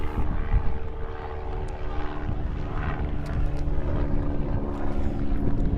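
A medical helicopter's broad, rumbling engine drone fills the whole stretch, steady and fairly loud, as if passing overhead, during a high school baseball game.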